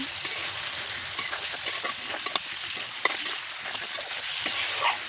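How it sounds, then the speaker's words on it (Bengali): Fried vegetables sautéed with spice paste in a pan, a village-style home cooking scene: a continuous close sizzle broken by frequent scraping and stirring knocks of a spoon, no voices. "সবজিগুলো দিয়ে সবজির সাথে মশলাটা খুব ভালোভাবে কষিয়ে নেব"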